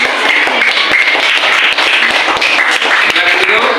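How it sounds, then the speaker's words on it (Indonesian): Classroom students clap for a presenting group, loud close-up hand claps in quick irregular bursts filling the room, with some voices mixed in. "tepuk tangan untuk tim kelompok 3"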